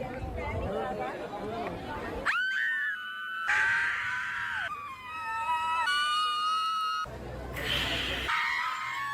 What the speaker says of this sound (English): Imagine you're just trying to walk through Disney and groups of random adult women just start screaming.